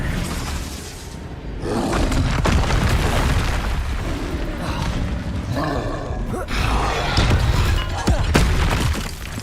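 A Confringo blasting spell in the Hogwarts Legacy video game fires as loud, booming explosive bursts with roaring debris, repeated through dense battle noise.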